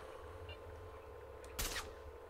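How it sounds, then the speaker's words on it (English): A single silenced sniper rifle shot fired in STALKER: Call of Pripyat gives a short, sharp, suppressed crack over a low ambient game background. "let's try out our new sniping gun"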